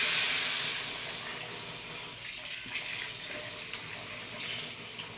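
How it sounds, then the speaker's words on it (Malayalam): Boiling water is poured into a pot of roasted rice for ghee rice, a steady splashing, gurgling pour that is fairly quiet and gradually eases, with no voices. "നേരത്തെ നമ്മൾ പ്രിപ്പയർ ചെയ്ത് വെച്ചിരിക്കുന്ന തിളച്ച വെള്ളം ഇതിലോട്ടങ്ങ് ഒഴിച്ചു കൊടുക്കാം"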